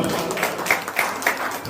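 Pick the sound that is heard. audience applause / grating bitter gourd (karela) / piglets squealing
audience applause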